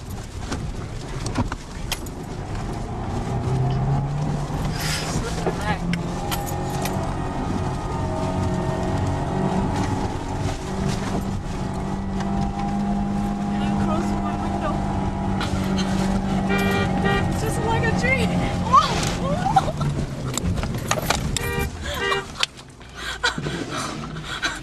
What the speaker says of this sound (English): I'm driving on the riverbed. There is no road and we have to drive on this.